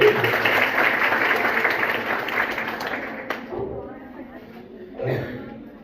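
A crowd of students claps together in a school hall at an inter college near Varanasi, a dense burst of applause that is loud for about three seconds and then thins and fades, followed by murmuring voices.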